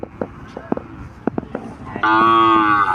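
Cattle at a Thai livestock market in Sikhoraphum give a loud, close, sustained moo near the end, after a run of scattered clicks and knocks.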